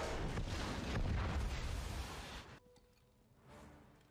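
A loud explosion from an animated Star Wars show blasts a hole in something, a heavy rumbling boom that sustains for two seconds and then cuts to quieter rumble and a fainter second burst.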